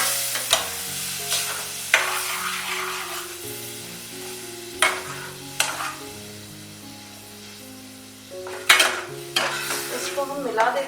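Tomato, ginger and green chili purée stirred into a hot pan of gravy, sizzling steadily while a spoon scrapes and clacks against the metal in repeated strokes, close up and loud.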